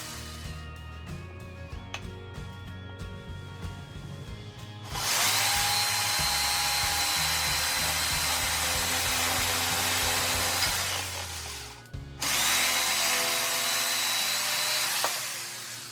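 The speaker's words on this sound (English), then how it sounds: "I am going to use this board to drill, and you will see what I do." A power drill bores into a wooden board in two long, loud whirring bursts, the second starting after a brief pause, with quieter handling noise and background hum before the first.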